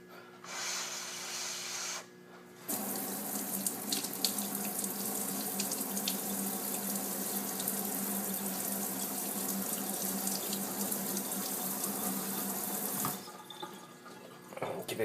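A faucet runs in a steady splashing stream as a vape coil head is rinsed under tap water, starting after a brief pause and cutting off near the end.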